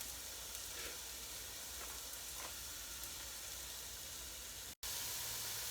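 Onions brown in a frying pan for a rich tomato stew, a faint, even sizzling hiss that holds steady before a sudden brief cut.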